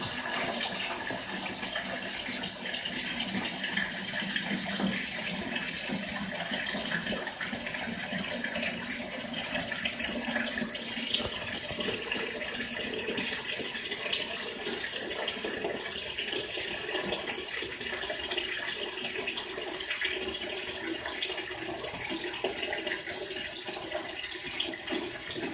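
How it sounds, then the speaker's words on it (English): Water draining out of a tank, a continuous loud rushing and splashing flow that holds steady throughout with no talk over it. "Now the tank is draining."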